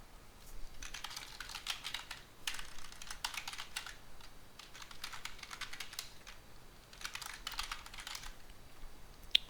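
Clattering computer keyboard keystrokes come in four quick runs separated by short pauses, near and moderately loud, while a file is deleted during play of the hacking game Grey Hack.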